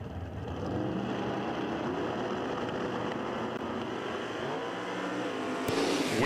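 At a drag strip, the Dog Pontiac launches wheels-up against a rail car, their engines roaring loud and steady for several seconds before a sharp crack near the end.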